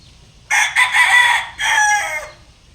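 A tall rooster stag chosen as breeding stock crows close by, one loud call broken into two long bursts with a short gap, alone over quiet background.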